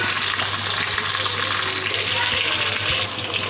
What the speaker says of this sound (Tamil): வெங்காயம், பச்சை மிளகாய் ஒரு நிமிஷம் வதங்கட்டும்.